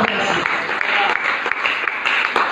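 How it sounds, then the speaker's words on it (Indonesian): A church congregation applauds during an Indonesian sermon, with steady, fairly loud clapping throughout and a faint voice mixed in. "Yang mengerti kata bonus, tepuk tangan Bapak Ibu."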